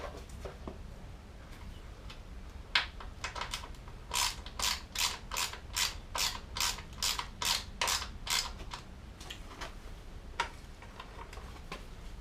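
A hand ratchet backs out 10mm bolts from the rear hugger of a Suzuki GSXR during a rebuild, giving a steady run of about a dozen close, crisp clicks in even rhythm, with a few isolated clicks before and after over faint background hiss.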